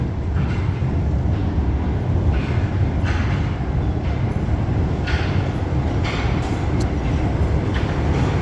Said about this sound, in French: on termine avec cette arrivée du MF67